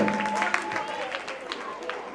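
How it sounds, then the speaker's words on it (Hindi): Audience clapping erupts after a team wins a match in a religious quiz championship league in Ahmedabad, a dense patter of hands with a voice speaking over it. "जोरदार तालियां है।"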